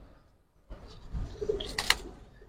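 Full-circle pigeons from a collection of silver and army khaki birds give a few soft, low coos after a short silence, faint and close, with light rustling and no talk.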